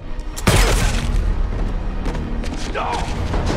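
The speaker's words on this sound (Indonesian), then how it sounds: "tiba-tiba mereka diserang oleh beberapa tembakan" Gunfire in an action film scene opens with a loud, close blast. Heavy rumbling and clatter sustain afterward.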